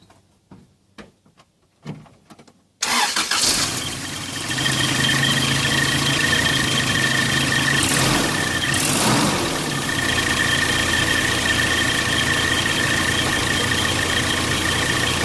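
A few light clicks, then a car engine cranks and catches, settling into a loud, steady idle rumble that continues to the end.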